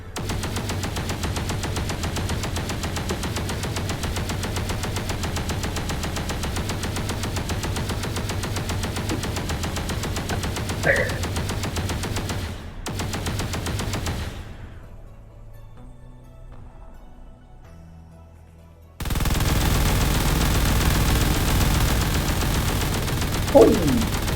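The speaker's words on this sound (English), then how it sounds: "between the Rampart chain guns and the Spartan turret" Chain guns and a turret firing in a video game: dense, continuous automatic fire for about twelve seconds, a sudden cutoff into near quiet, then another loud burst of gunfire toward the end.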